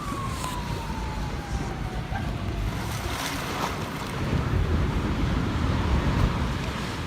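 Heavy ocean waves surge and roar continuously during a winter storm flood, with wind rushing across the microphone and the swell growing louder toward the end.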